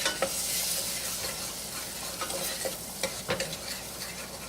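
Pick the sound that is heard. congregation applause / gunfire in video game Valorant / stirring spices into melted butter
stirring spices into melted butter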